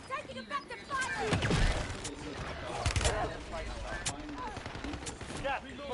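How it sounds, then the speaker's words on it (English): Rapid bursts of automatic gunfire in the Call of Duty Warzone battle royale game, dense and continuous over several seconds, mixed with a game announcer voice and in-game radio chatter. "Taking effective fire."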